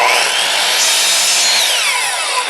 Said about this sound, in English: Now I want to trim these ends up, and I can see where I'm going to go with the blade